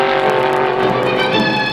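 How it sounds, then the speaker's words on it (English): Two 1960s Pontiac drag racing cars in the B Factory experimental class duel down the strip, a loud sustained engine roar with a slight rising pitch across nearly two seconds. "Two Pontiacs duel in the B Factory experimental class with Jim Wangers, the number 926, winning it."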